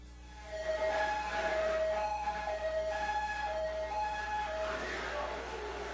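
A siren wails with steady, slightly shifting tones over a dense background of commotion, at a department store disaster scene with people screaming and crying.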